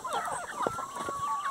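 Young hen clucking softly on a rural farm, a short run of close, low murmuring clucks with a faint steady background hum.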